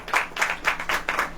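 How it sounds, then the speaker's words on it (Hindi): Audience clapping at a religious sermon gathering, a short burst of rhythmic, fairly close applause heard alone. "तो ताली बजाइए।"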